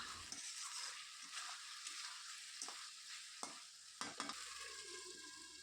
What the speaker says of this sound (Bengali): দিয়ে এখন মশলাটা ভালোভাবে কষিয়ে নিচ্ছি।